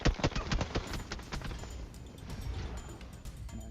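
Footsteps in the mobile battle-royale game PUBG Mobile: a quick run of sharp, close thuds at the start, then fainter irregular steps fading under a low background rumble.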